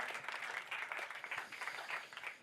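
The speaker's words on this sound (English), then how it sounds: "Give them a round of applause," Audience applause at an aviation conference panel in Almedalen on regional airports, a steady, moderately faint patter of many hands clapping throughout, with no talking.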